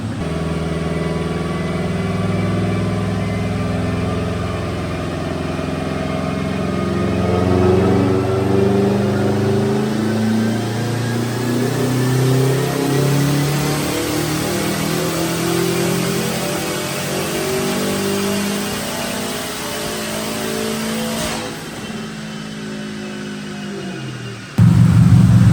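A Subaru STI roars through a dyno pull with the boost turned up, engine revving hard and loud for over twenty seconds, pitch climbing in steady rising sweeps before cutting off abruptly near the end.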